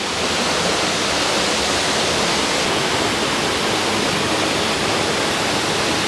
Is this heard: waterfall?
yes